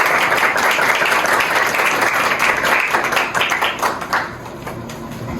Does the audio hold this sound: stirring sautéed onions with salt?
no